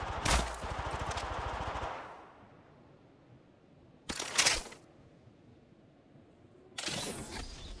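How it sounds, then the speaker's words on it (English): Gunfire from a first-person shooter played on a Poco X3 Pro phone: a long rattling automatic burst, then a short sharp volley and a final burst, with quiet gaps between them. "Reloading. Tango down. Firing. Reloading."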